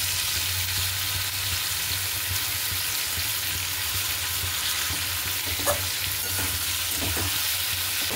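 Ridge gourd and potato fry in a pan with salt and turmeric, giving a steady close sizzle, with occasional stirring scrapes and no talking.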